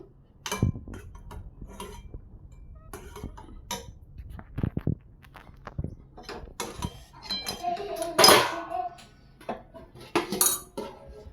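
Pineapple sheera being scooped from a pan into a bowl, with a string of close metallic scrapes, clinks and taps of a spoon against cookware, uneven and intermittent, with a louder scrape burst partway through.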